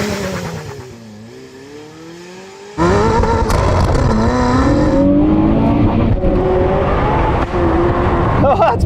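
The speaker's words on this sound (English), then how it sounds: "Oh, that's better, but still so much wheel spin." A hypercar launches hard from a standstill with heavy wheelspin. A quieter idle gives way to a sudden loud surge of engine and tyre noise that climbs steadily.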